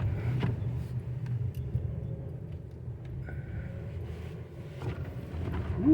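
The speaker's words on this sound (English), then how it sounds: "Let's do a little winter wonderland driving." A car drives through a winter snowstorm on a snowy road, its steady low rumble of engine and tire noise running throughout with faint wind buffeting and no talking.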